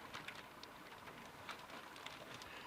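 Steady rain in a forest, a dense soft patter of drops on leaves and surfaces with scattered sharper nearby splashes, continuous and fairly faint, with no voices.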